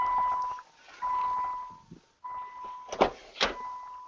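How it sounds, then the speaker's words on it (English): A steady electronic fire alarm tone sounds in several long bursts with brief gaps, followed by a couple of short knocks or clicks nearby. "I think the fire alarm is going off, Jonathan."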